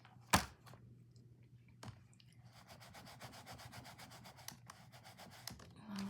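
A photopolymer rubber-ink stamp is scrubbed clean on a Stampin' Scrub pad, producing faint, soft rhythmic rubbing strokes close by, with one sharper knock near the start and a quiet room otherwise.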